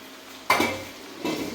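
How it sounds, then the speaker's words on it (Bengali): The metal lid of a cooking pot of simmering country chicken curry is lifted with a sharp clank, followed by a soft sizzle, and a second lighter scrape comes a moment later. "ঢাকনাটা তুলে নিলাম।"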